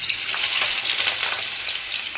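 Potatoes frying in hot mustard oil in a kadai, a close, steady hissing sizzle with light crackles throughout and no voices.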